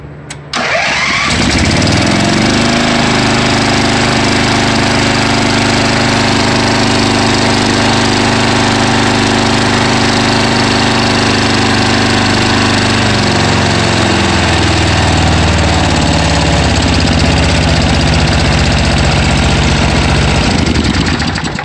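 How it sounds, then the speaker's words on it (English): A small gasoline engine on a run stand starts and runs steadily for about twenty seconds, a loud, continuous mechanical drone whose pitch shifts slightly partway through, with no talking. "let's see if she'll start."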